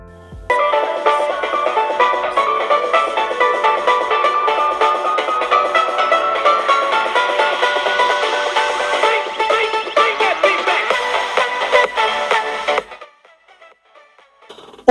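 Busy music with dense tones and percussion plays from laptop speakers continuously at a steady, somewhat thin level, then cuts off abruptly near the end.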